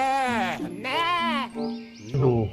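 A toy sheep gives several drawn-out, wavering bleats in a row, loud and close, with a short pause between them and a brief voice near the end.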